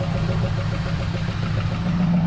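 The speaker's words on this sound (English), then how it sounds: "That's pretty low. We'll have to idle that up a little bit. But she's running finally." A rare Dodge truck with a 440 big block V8 idles low and steady close by, its deep, even, lumpy rumble continuous throughout with no revving.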